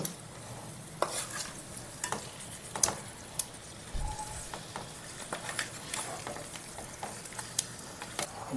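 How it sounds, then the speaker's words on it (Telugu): Fish pieces turned over in a pan of spicy fish curry with chili, quiet sizzling and sharp intermittent clicks of a spatula against the pan, close and unhurried. "ఇది ఇలా ముక్కలు తిరగేసుకుంటే కారం మొత్తం కలుతుంది"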